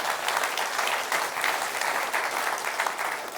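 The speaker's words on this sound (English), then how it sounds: "a round of applause for Brad Schoenfeld" Audience applause for exercise scientist Brad Schoenfeld at a talk on muscle growth, a steady, dense crowd clapping sustained throughout at moderate loudness.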